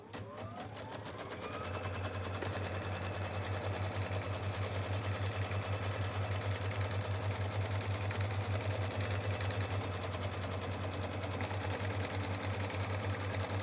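An embroidery sewing machine stitches a Home Sweet Home design, its motor spinning up within the first two seconds into a steady, rapid, rhythmic whirring hum that continues unbroken.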